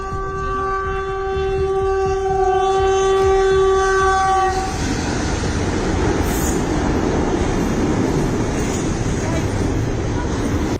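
A train passes at full speed along a railway, its horn blaring in long sustained blasts for about four seconds before giving way to a loud continuous roar and rumble of cars rushing by close up.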